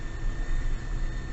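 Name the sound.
turbocharger whistling on GAZon Next truck engine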